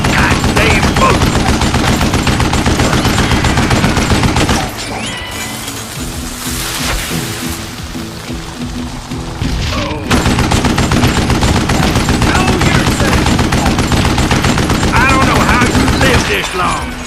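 Rapid gunfire from the Western shooter game Call of Juarez: Gunslinger fills the scene with dense, loud bursts, then drops to a quieter stretch mid-way before heavy shooting resumes.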